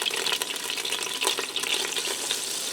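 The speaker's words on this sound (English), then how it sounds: "I'm going to melt my margarine in here with the oil" Margarine melting in hot olive oil in a pressure cooker pot sizzles and fries with a steady, close crackle, with no talking.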